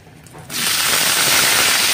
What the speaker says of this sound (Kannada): ಒಗ್ಗರಣೆ